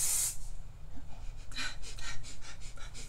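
Hairspray hisses out of a can in a single quick burst, then a short rhythmic series of sprays follows, all fairly quiet and close.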